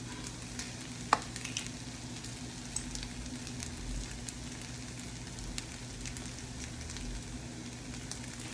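Pancake batter with a long list of seasonings crackles and pops softly in a pan, a steady low sizzle with scattered sharp pops throughout, quiet and close, no talking.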